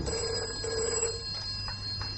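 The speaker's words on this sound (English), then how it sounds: "Just let me take this phone call." An old-fashioned telephone bell rings in a radio drama scene, a bright repeated trill in short bursts with a steady electronic tone beneath, no voices.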